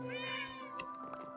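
A cat meows in the video game Minecraft, a single drawn-out synthetic meow close and clear, followed by faint soft clicks.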